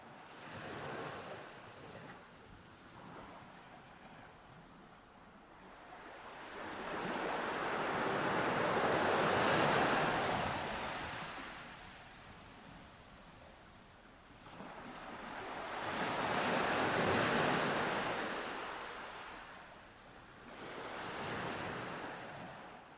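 Ocean waves in the coastal waters of the Northeast Pacific, slow swells rising and falling in long surges every several seconds, with steady wind-like hiss between them and no voices.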